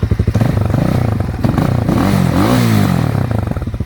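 An RPS Magician 250 motorcycle engine, a Chinese-made 250, cranks and fires up close by, then settles into a loud, rough, revving idle with some mechanical clatter.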